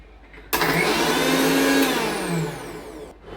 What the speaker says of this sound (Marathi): यामध्ये थोडंसं मीठ घालायचं, पाणी घालायचं आणि मिक्सरला फिरवून घ्यायचं.